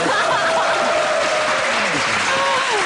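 Studio audience on a Korean TV travel show in Buyeo clapping in a brief, steady burst of applause, with voices talking over the clapping.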